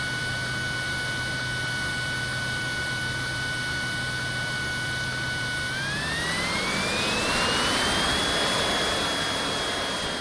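An L39 jet in an RC flight simulator game roars with a steady turbine whine, then the engine tone climbs sharply as the throttle opens and settles at a higher, louder pitch, with no talking.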